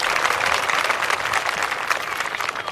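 Audience applause at a Hindi-language satsang spiritual gathering, steady dense clapping from many hands filling the hall, loud and continuous throughout with no talk.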